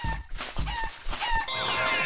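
Chicken clucking in Super Egg Hunt video game: a few short, sharp clucks and squawks in quick bursts, close and fairly loud, over busy game background sounds.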